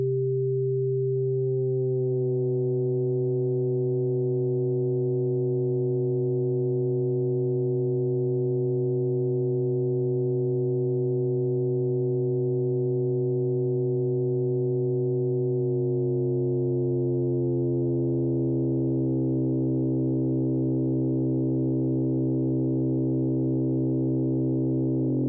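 Pendulate chaos synthesizer sustains a dense, buzzing drone whose inharmonic partials slowly glide and shift, growing more complex and rough toward the end, loud and continuous with no talk.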